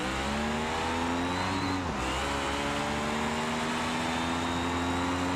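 A drag car in the BeamNG driving game accelerates hard to 230 in third gear, its engine note climbing steadily and loud throughout, with a brief dip around a gear change before the rising whine resumes.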